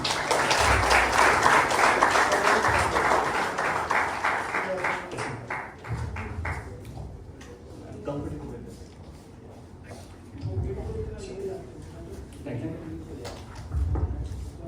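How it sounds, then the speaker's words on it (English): An audience at a Keras Community Day tech event in Kolkata breaks into loud, dense clapping that fades after a few seconds, leaving a voice speaking over scattered claps and room noise. "So last clap for both of them, please."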